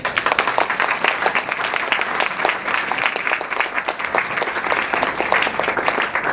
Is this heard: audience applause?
yes